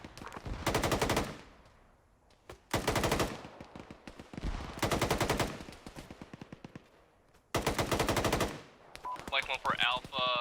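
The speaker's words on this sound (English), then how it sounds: "I'm shooting their bushes and smoke." Automatic rifle fire in the military simulation video game Arma, long loud bursts of rapid shots repeating four times with brief pauses between, followed by a radio voice.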